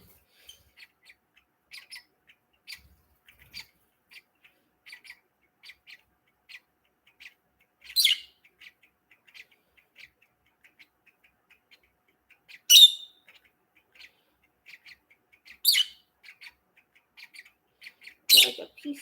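Three-week-old baby lovebirds give soft, rapid chirps and tweets in a steady patter, punctuated by several louder, sharper squawks, with no talking.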